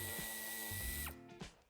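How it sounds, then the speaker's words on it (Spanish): Power drill backing out the cross-head screws that hold the wheel arch liner on a Kia Sportage, a short close whirring burst with a ratcheting rise and a brief second spin-up at the end. "retiraremos los tornillos que sujetan el paso de rueda"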